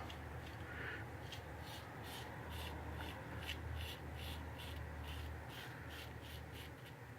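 Wedge straight razor shaving stretched skin, a steady close scraping rasp that continues without pause and with no talk.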